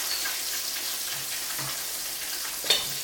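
Chicken livers frying in hot oil, giving a steady, soft crackling sizzle with a faint hiss, one brief louder pop near the end, and no voices.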